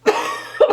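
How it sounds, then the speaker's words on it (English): A person coughs twice in quick succession, close and loud, within under a second. "If I can stop coughing"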